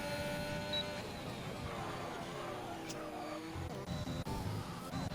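A race car locks its brakes and skids in a racing video game at the Portuguese Grand Prix, a drawn-out tire squeal over steady engine whine, with a commentator talking throughout.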